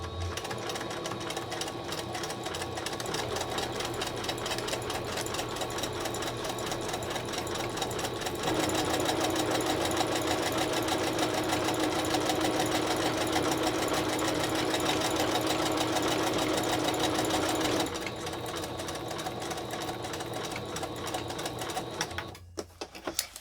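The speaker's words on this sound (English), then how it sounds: "So I'll just get these sewed up." A sewing machine stitches upcycled cereal liner bags with gray thread, running in one long steady mechanical whir that grows slightly louder and busier midway before stopping near the end.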